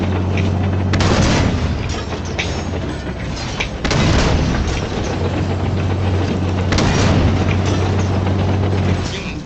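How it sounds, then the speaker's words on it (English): Scorpion tank cannon fire in Halo 5 multiplayer: heavy booming blasts at about 1, 4 and 7 seconds over continuous loud game din and a steady low engine hum, with faint voices underneath. "this time I'm going to use the enemy team's Scorpion"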